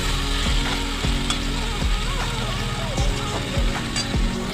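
Taro stolons and prawns frying in a pan, a steady loud sizzle with repeated scraping stirs of a spoon roughly every second, close up and with no speech.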